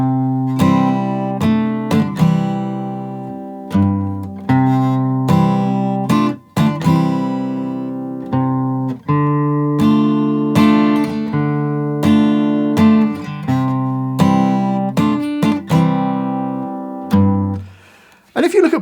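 Plucked guitar chords from a song ring out one after another in a slow, steady progression, close and clear, with a brief pause near the end.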